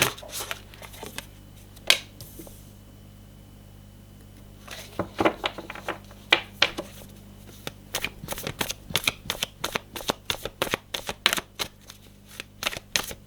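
Tarot cards being shuffled by hand, a run of crisp riffling flutters and sharp snaps that quicken into a steady rapid series of close, distinct card slaps in the second half, with no talk.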